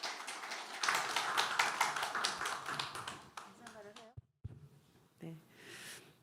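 An audience at a political event applauds to welcome a lawmaker to the podium, a dense burst of clapping lasting a few seconds, then fading as a voice takes over.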